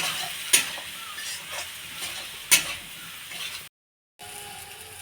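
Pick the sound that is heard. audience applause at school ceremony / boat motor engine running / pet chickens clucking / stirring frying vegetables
stirring frying vegetables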